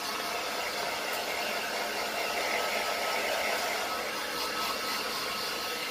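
A hair blower running on no heat dries hair with a steady, loud, continuous whooshing whir that holds unchanged throughout, with no talking.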